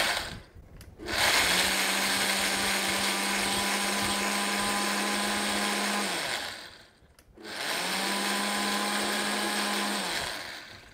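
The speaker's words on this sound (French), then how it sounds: "avec mon moulin à épices, donc je donne 2-3 tours" A spice mill grinding peppercorns and mixed spices, heard as two loud, steady whirring bursts, the first about five seconds long, then a short pause and a second, shorter burst.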